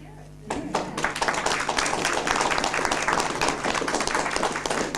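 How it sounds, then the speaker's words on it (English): A room full of people bursts into sustained applause for Derek Craig at a talk about maple syrup and sugar sap. The dense, steady clapping starts abruptly after a moment of quiet and carries on to the end. "And a round of applause for Derek."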